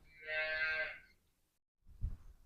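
One loud cow moo rings out for about a second in a Konkan village, followed by a pause and then a short low thump or rustle.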